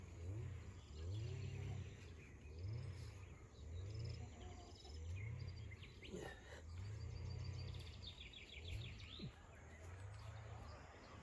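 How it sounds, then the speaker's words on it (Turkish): Birds chirp and trill in scattered bursts above a steady, pulsing low rumble, heard from a village house terrace. "Güzel de bir kuş sesleri geliyor."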